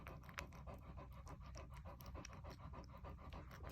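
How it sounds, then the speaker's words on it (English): Newborn American Bulldog puppies nursing up close, with soft rapid panting, suckling and snuffling sounds repeating steadily. "Brand new baby pups nursing."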